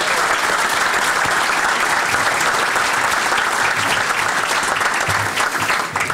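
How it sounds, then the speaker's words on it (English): An audience at a high school hall of fame awards ceremony applauds in a steady, full round of clapping that fills the room throughout. "So if we could give a nice round of applause for Coach Schreiner and Coach McCaffrey"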